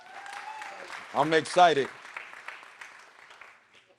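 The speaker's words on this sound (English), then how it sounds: "Can we please give a round of applause for all the graduates today?" Applause rises from the audience at a 2023 YouthBuild graduation ceremony in St. Louis, honoring the graduates, a moderate wash of clapping heard under a speaker's voice and crowd cheers.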